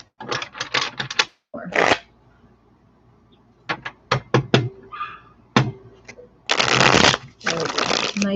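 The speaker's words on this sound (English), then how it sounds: "let's get one more good shuffle" Tarot cards shuffled in bursts of brisk riffling and flapping, several separate shuffles with short pauses between them, close and fairly loud with no talk over them.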